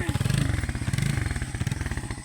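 Motorcycle engine on a project bike running at a steady idle, a close, rapid putter with a regular pulsing rhythm throughout.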